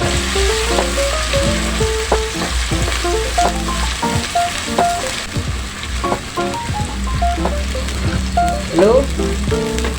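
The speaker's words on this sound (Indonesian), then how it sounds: "Kita tumis bahan tadi itu." A ground spice paste fries with shallots and garlic in a pan for a Padang-style jackfruit gulai: a loud, continuous close sizzle with repeated scraping stir strokes and occasional metallic clicks.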